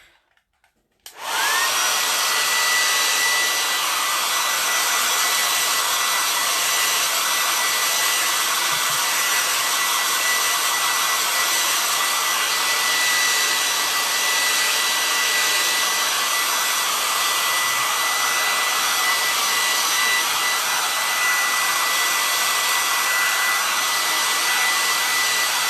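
A hair dryer blows steadily on a Christmas farmhouse-style craft piece, switching on abruptly and then holding a loud, continuous whooshing roar with a faint high whine, alone without any talk.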